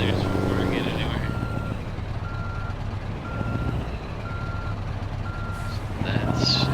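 A truck in Euro Truck Simulator 2 backs up with its trailer, sounding a steady, evenly spaced reversing beep over a low, droning engine rumble.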